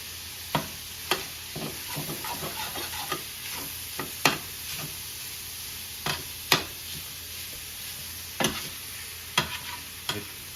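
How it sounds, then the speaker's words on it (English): A spoon scrapes and stirs sausage gravy across the bottom of a pan, making repeated sharp scraping strokes at an uneven pace over a low bubbling sizzle. "It does stick to the bottom of the pan, so you want to scrape some of that off, mix it in."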